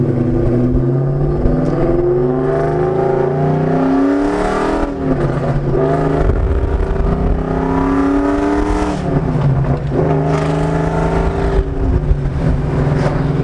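A Ford Mustang engine with long-tube headers revs hard and repeatedly, its throaty growl climbing and dropping in pitch through several loud, aggressive pulls.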